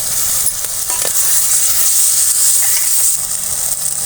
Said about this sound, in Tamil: இப்போ இந்த தேங்காய் சில்ல உள்ளே சேர்த்து வதக்கிக்கலாம்